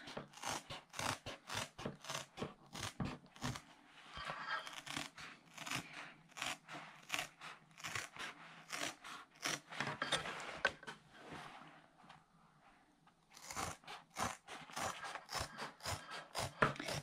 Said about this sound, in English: I'm going to use scissors for that